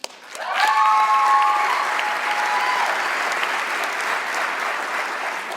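Audience at a San Diego business event cheers and applauds a speaker, with a burst of whoops and whistles up front that settles into sustained, loud clapping through to the end.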